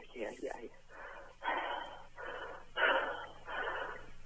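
Panicked, heavy breathing over a muffled telephone line during an emergency call, a steady run of ragged gasps and wheezes roughly every second with a faint voice underneath.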